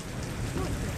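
Steady, dense rain hiss fills the short moment, loud and close, with a faint voice murmuring underneath.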